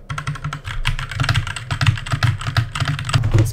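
Keys clatter in a fast, steady stream of sharp clicks on an old 60% computer keyboard, typed up close and loud, with a low hollow thock under each press and no talking.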